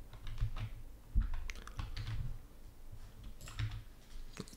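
Computer keyboard typing: a quick burst of irregular key clicks and taps, close and fairly quiet, heard alone.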